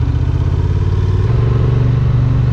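A Honda XL750 Transalp 2023 motorcycle engine idles steadily close by, a loud continuous low rumble with a fine rhythmic pulse and no talking.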